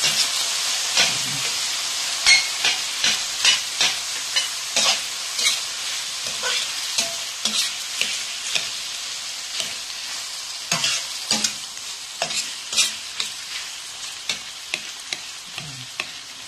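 Chicken sizzles in a pan for a home-cooked breakfast. A steady frying hiss runs under repeated close scrapes and taps from a stirring utensil.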